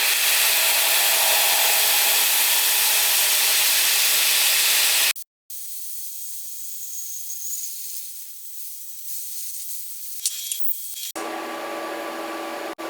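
A cheap Temu plasma cutter hisses loudly and continuously while cutting metal, then goes briefly silent before returning as a quieter, duller hiss with faint crackles, and ends with another strong burst.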